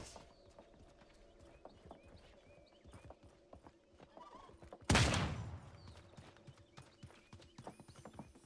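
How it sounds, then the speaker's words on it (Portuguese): A single sharp gunshot bursts out and rings off in an Xbox One video game, amid a steady clip-clop of horse hooves and scattered clicks. "Ouvi tiros."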